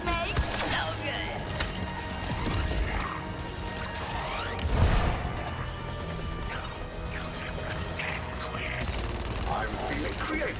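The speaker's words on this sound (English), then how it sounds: "The expensive crystal shattering sounds these make so good." Crystal-like shattering and crashing from mines exploding in a video game, repeated bursts and clanks over a dense, busy mix with a louder crash near the middle.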